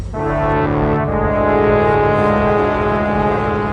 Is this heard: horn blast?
yes